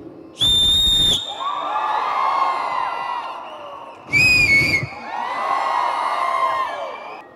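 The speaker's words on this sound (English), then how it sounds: "I just want to greet you with a whistle." Two loud, shrill whistle blasts, each about a second long, rise over a cheering, shouting crowd that keeps roaring between and after them.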